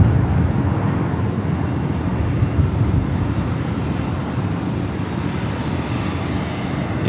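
A UPS cargo aircraft taxis at Los Angeles International Airport, its engines holding a constant heavy rumble and whine at steady loudness, with no speech over it.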